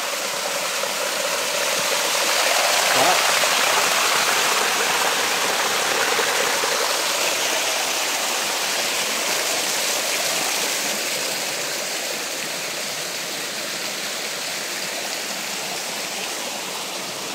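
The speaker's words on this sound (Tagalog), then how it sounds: "pwede po ba kayong pa-comment kung nagagandahan kayo sa falls na ito dahil sobrang ganda" A forest waterfall roars in a dense, steady rush of falling water that fills the whole stretch. It stays loud and unbroken, with no voices over it.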